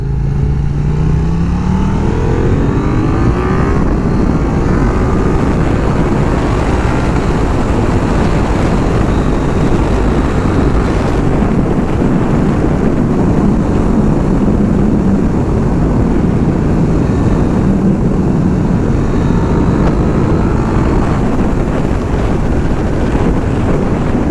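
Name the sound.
motorcycle engine while riding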